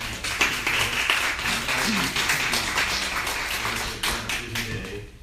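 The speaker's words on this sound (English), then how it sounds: "So let's give everybody a round of applause." Audience at a telehealth policy program applauding together, a steady patter of hand claps that holds for several seconds at moderate loudness, with a faint voice underneath.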